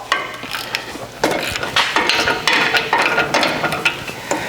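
Wrench or ratchet work on the 17mm caliper bolts of a 100 Series Land Cruiser's front brakes: dense metallic clicking and clanking, close and fairly loud, in repeated bursts throughout with no talking.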